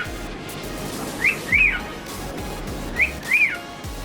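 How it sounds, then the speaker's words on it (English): Two pairs of short, rising-then-falling whistles sound in a fish house aquaculture room, each pair a quick chirp followed by a longer sweep, over a steady low hum of equipment. "You might hear the occasional whistle in the background when we record in the fish house."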